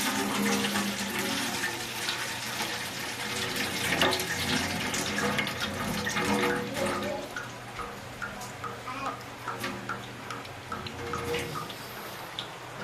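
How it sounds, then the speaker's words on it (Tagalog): Water from a pot of cooked macaroni pours steadily into a sink while soup is made with coconut milk, a continuous splashing rush that runs close and fairly loud, with faint background noise beneath. "tanggalin natin yung tubig"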